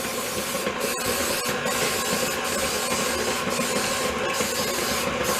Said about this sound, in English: give it a light little spritz with the pan spray